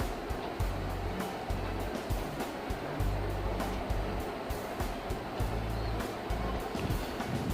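Waves on Pangong Lake, a high-altitude lake in Ladakh, wash continuously against the shore with a steady wind-blown rush and recurring surges, alongside a low rumbling hum.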